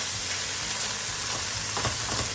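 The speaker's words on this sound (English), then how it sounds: "The liquid is finally cooked off and we're starting to brown that beef" Beef browning in a skillet after its liquid has cooked off, being tossed so all sides brown: a steady close sizzle with occasional stirring scrapes toward the end.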